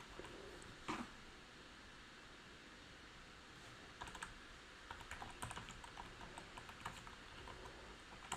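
Fast, steady typing on a new wired computer keyboard, a continuous patter of crisp keystrokes with occasional louder clacks, close and alone without talk.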